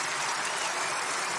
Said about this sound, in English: When the Oracle of Omaha made his announcement, the crowd went wild.